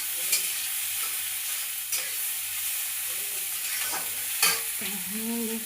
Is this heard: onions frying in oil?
yes